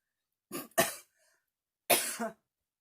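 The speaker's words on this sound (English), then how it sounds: "Sorry, there's that cough" Two coughs close together near the start, then a pause and a third, slightly longer cough with a rougher, throat-clearing edge. Close and fairly loud, no talking.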